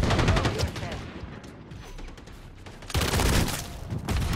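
Rapid bursts of automatic gunfire from a Call of Duty Modern Warfare multiplayer match, crackling in clustered volleys with a brief lull between them, with someone talking over the shooting.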